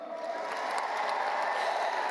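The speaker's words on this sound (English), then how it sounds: "Let's get her back out here with a big round of applause." Steady applause and cheering from a large crowd at an opening-ceremony stage show, a continuous dense wash held at even loudness throughout, with no voice over it.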